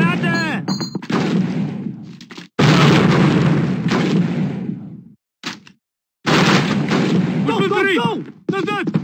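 Grenade blasts and gunfire in Call of Duty 1 gameplay, loud booming bursts and crackling shots filling the clip with brief silent gaps, soldiers shouting in German over the battle.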